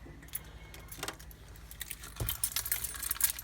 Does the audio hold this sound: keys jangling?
yes